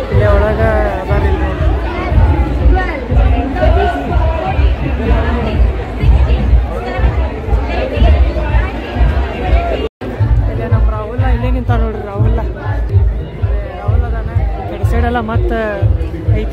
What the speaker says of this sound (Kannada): ಆಮೇಲೆ ಇಲ್ಲಿ ಎಷ್ಟು ಕ್ರೌಡ್ ಐತಿ